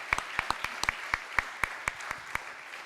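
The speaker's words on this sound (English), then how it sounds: "Massive round of applause for Cadence from Cowgirl Cosmetics" Sparse, evenly spaced claps from a small audience after a student business pitch at a national grand final, each slap sharp and distinct at a steady rhythm, moderately close with no voices.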